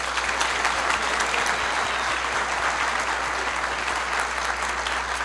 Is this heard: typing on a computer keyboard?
no